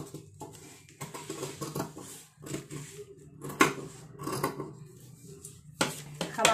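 Blouse fabric is cut with scissors on a table, giving a string of soft snips, rubs and light clicks at close range.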